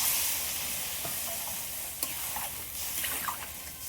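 Green chillies and water going into a pan of sizzling fish from a village field, a steady soft hiss with a few faint clinks and splashes, close and quiet, no voices.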